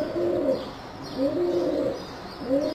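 A pigeon coos near its nest in three soft, rolling bursts, each a low, throaty murmur spaced about a second apart, close and clear with no talking.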